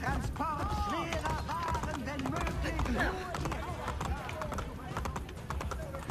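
Rapid rhythmic hoofbeats of a galloping horse in Assassin's Creed Brotherhood run throughout, mixed under someone talking over game sounds.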